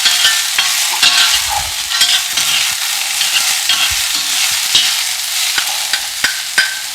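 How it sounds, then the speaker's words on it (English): Carrots stir-fried in a very hot wok, a loud continuous sizzle broken by sharp scraping strokes and clacks of the stirring utensil. "And this is why they call it stir fry."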